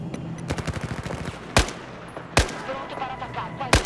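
Gunfire in the shooter video game Battlefield 4: rapid bursts of automatic fire early on, then three sharp, loud single shots spaced about a second apart, with a busy battle din in between.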